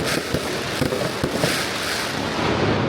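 Chinese New Year fireworks set off in the streets of Penang, Malaysia: a loud, dense barrage of crackling firecrackers with sharp bangs popping throughout, continuous for the whole stretch.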